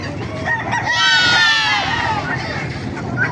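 A rooster crows loudly in one long drawn-out call over a busy background of chatter and clucking birds at a rooster market in Baliuag, Bulacan.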